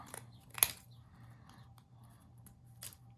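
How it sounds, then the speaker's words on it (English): Scissors cutting apart a piece of a hay ride layout, with a couple of quick, crisp snips over a faint low hum, close and alone with no talking. "So let me cut this, get rid of it."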